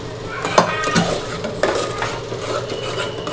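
Mutton broth goes into a pan of frying mutton in a home kitchen, and a metal spoon stirs and scrapes against the pan, with several sharp clinks over a soft steady sizzle, close and fairly loud.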